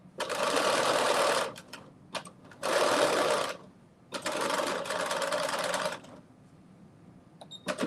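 A sewing machine back stitches a knit dress, with three loud, close runs of rapid mechanical whirring separated by brief pauses and a few small clicks at the end.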